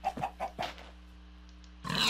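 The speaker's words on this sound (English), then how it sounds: "Pig, yes, piggy, and chickens" A few quick pig grunts and chicken clucking in Minecraft in a short burst, followed by a quiet pause and a sudden rush of noise at the end.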